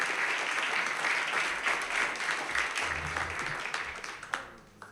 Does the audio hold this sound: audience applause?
yes